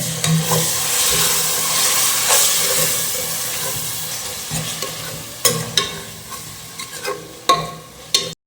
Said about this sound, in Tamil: ஜிஞ்சர் garlic பேஸ்ட் போட்டுக்கிறேன், ஒரு 5 கிராம் போட்டுங்க